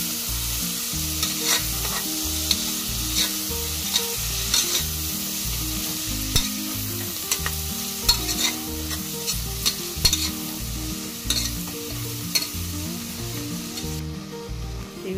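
Greens frying in a pan, a dense and loud continuous sizzle with steady rhythmic stirring scrapes and sharp crackles, heard up close without speech.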